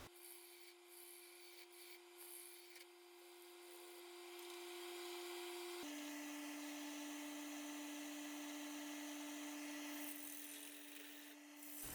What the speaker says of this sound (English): Just taking some small cuts to start with, trying to kind of flatten the top there before I dig into the hollowing process.